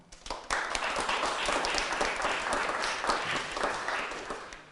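An audience at a Boy Scout Troop 77 Court of Honor breaks into applause, a dense, steady clatter of many hands clapping at moderate volume throughout.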